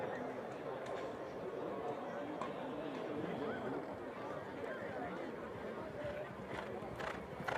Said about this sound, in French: Une belle action de son cheval hein, en début de parcours